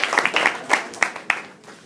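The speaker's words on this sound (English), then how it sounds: "Please give a round of applause for the first Republican nominee," A mock election convention audience claps for the Republican nominee, a thin scattering of fairly close individual claps with sharp accents roughly every quarter second, tapering off quickly.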